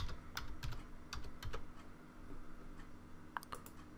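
Quiet typing on a computer keyboard running Windows 10, a short flurry of light key clicks followed by a pause and a few more scattered taps, with no speech.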